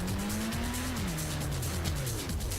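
A car brakes hard in a driving video game, with a sustained tire squeal whose pitch slides downward over a steady engine drone, loud and continuous throughout.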